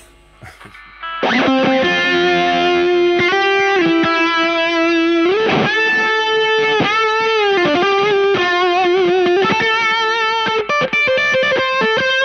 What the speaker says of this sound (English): Can I have some echo for funsies? Okay, we've got the Echo Pro by Line 6.